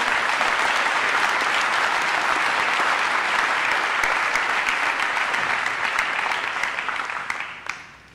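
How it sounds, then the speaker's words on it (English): Sustained applause from an audience at the 52nd annual Ken Hubbs Awards ceremony, honouring fifty nominees; dense, steady clapping fills the room without a break, then thins and fades out over the last second. "let's give a round of applause to the 50 nominations"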